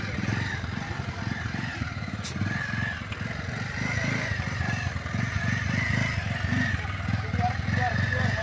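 A motorbike chugs slowly and steadily at low revs during a village slow-riding race in Nepal, its engine a constant close rumble under someone talking throughout.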